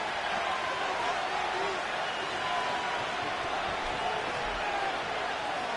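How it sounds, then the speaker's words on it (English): A stadium crowd in the Madden 25 football video game swells before a 3rd and 10 play, a dense, steady wash of roaring noise throughout. "What about this crowd getting even louder before 3rd and 10?"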